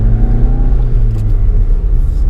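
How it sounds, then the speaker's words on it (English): Steady low rumble of road and cabin noise inside a 2017 Volkswagen Golf GTI on the move, a continuous droning hum with no talk. "There is a little bit of road and cabin noise, but that's to be expected in a car of this class"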